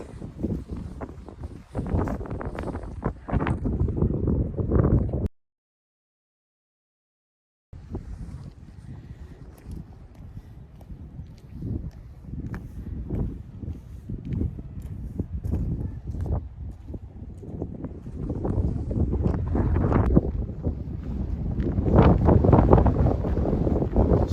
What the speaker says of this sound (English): I'm not going to record too much because the wind, it just doesn't make it pleasant viewing